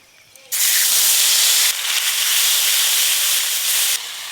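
Ginger-cumin spice paste with whole garam masala and turmeric fries in mustard oil, producing a loud, steady hiss that bursts in abruptly and holds without break, with no talking.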